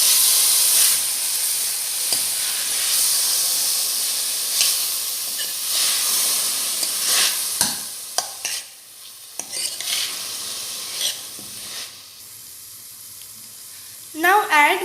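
Finely chopped tomatoes sauté for upma with a loud hissing sizzle and repeated scraping stirs, easing into quieter stretches with sharp utensil clicks and a final burst of stirring.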